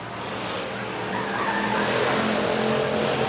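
A death-race car with a flat tire slides sideways on track, tires squealing over a loud, steady engine roar that builds slightly as the skid continues, close and without talk.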